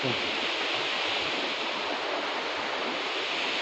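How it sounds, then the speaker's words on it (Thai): Waterfall near Pakse in Champasak province, a dense, even roar of rushing water that fills the whole stretch without letting up. "น้ำตก"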